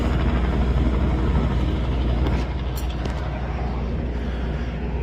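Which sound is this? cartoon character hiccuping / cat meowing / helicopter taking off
helicopter taking off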